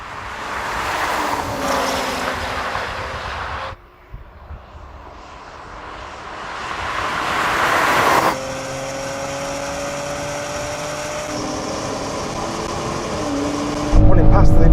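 A BMW X3, Porsche Macan GTS and Mercedes GLC 43 launch in a race, their engines surging loudly and rising in pitch through the gears, with strong rushing wind noise and a sudden drop partway through.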